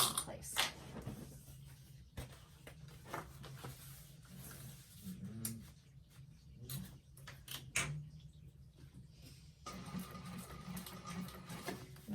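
A sewing machine top-stitches along an orange handbag panel with an eighth-inch seam allowance, giving intermittent clicks, creaks and short whirring runs up close as the fabric is pulled along.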